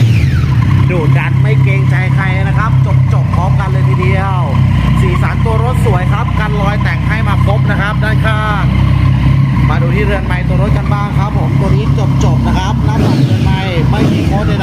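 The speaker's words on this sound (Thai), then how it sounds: "ขออนุญาตเบิ้ลเครื่องนะคร ับ" A Triumph Street Triple 675R motorcycle engine revs repeatedly, its pitch rising and falling in loud swells over a constant drone that fills the whole stretch.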